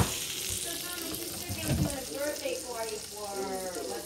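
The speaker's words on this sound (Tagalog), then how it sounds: "Ipa-fry natin mga darling. Fry para luto. Your beef love start cooking already." Beef frying in a home pan gives off a steady, close sizzle throughout, with voices talking over it.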